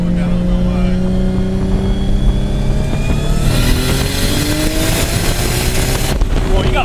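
A straight-piped 750 hp Nissan R32 Skyline GT-R with a sequential gearbox roars loudly under acceleration from inside the car, its pitch climbing through the gears over wind noise, while people talk.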